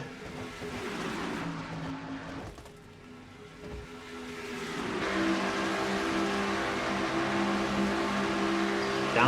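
Stock cars roar past in a NASCAR-style racing video game, a continuous engine drone with steady pitch, fading briefly before swelling louder and more sustained as the pack comes down the back stretch.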